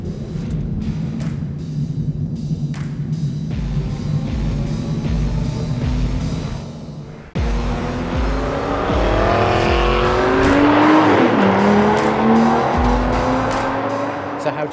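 Aston Martin V12 Vantage Zagato lapping a race track, its V12 engine droning steadily then surging louder after a gear change, with rising revs, tyre squeal and wind roar; faint voices sit beneath the engine.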